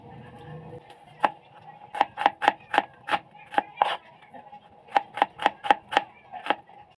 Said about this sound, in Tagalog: ihanda na natin ang ating mga pang-aromatics katulad nitong bawang. Ganon din itong ating sibuyas.